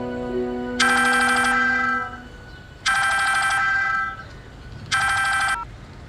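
A telephone rings for an incoming call with three loud electronic ringtone bursts, each lasting about a second and separated by roughly two-second pauses, with no talking.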